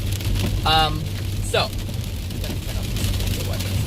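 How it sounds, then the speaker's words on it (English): Rain falls on a wet Wednesday in Los Angeles, a steady, even hiss that fills the whole stretch, with a voice briefly heard over it early on. "It's a rainy Wednesday here in Los Angeles."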